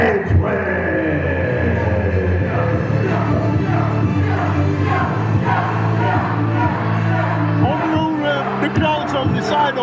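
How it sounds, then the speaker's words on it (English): A wrestling crowd at a live show in Batley cheers and roars continuously, a dense steady wash of voices with scattered whoops and claps, loud and echoing throughout. "The crowd's on the side of here."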